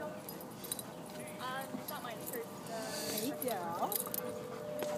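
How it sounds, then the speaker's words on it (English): Red Doberman puppy play fighting another young dog at a dog park, giving brief whines and yelps over steady outdoor background noise, with people talking nearby. "he loves fighting this other dog"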